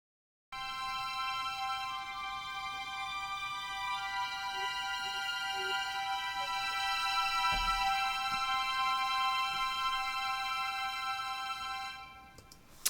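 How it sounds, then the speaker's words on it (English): Four divisi violins from the East West Quantum Leap Symphonic Orchestra library hold a steady, sustained chord for about twelve seconds, rich in harmonics at an even loudness before fading at the end, with no talking. "I think that's actually 4 violins, so it's like Divisi string in East-West."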